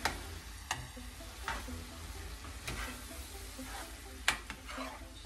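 Homemade salsa stirred into taco filling in a pan, quiet scraping and stirring with intermittent spoon clicks against the pan over a faint low sizzle.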